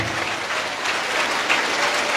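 A church congregation of the Iglesia de Cristo applauds loudly, a full, continuous roar of clapping that stays strong and even from start to finish.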